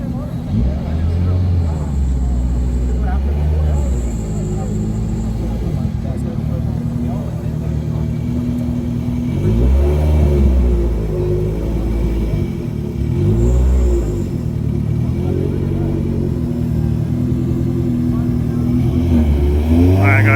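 Street racing cars in Mexico, nitrous versus turbo, idle and rev at the line with a deep, continuous engine rumble and a few louder throttle surges, heard from nearby.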